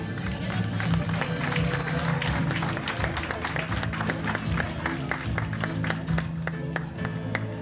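An audience at a community queen's celebration applauds with steady, moderate clapping from many hands, while a voice talks over it on a microphone.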